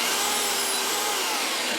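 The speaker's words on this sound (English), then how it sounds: "The vacuum is to suck up the sawdust." A vacuum cleaner runs steadily close by, sucking up sawdust during a woodworking build of a small trap, a continuous airy roar with no pauses.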